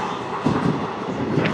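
The Simhadri Express runs at speed on the Guntur–Visakhapatnam line, heard from inside the coach. A steady low rumble and rattle of wheels on rails carries a few faint clacks and no talk.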